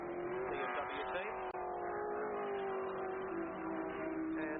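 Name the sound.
BMW race car driving up a hill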